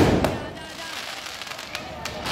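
A Diwali firecracker bursts outdoors with a loud sharp bang at the opening, then scattered crackling pops over broad street noise while people talk.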